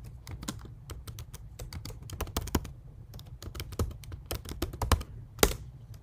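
Rapid typing on a computer keyboard while entering an npx express generator command, irregular clusters of close, crisp key clicks with brief pauses and a few heavier keystrokes, no voices.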